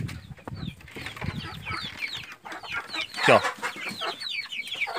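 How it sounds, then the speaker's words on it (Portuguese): Several chickens, including a frizzle hen among broiler chickens, cluck and chatter nearby in a lively flock, with a short spoken remark near the start. "a franga que eu falei da raça arrepiada tá aqui junto com os frangos de"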